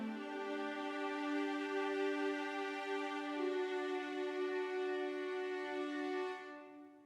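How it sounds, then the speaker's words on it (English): Soloed orchestral violas hold a sustained chord, their vibrato gradually easing into a plain, steady tone before the sound fades out at the end. "If we just solo the violas, it sounds like this."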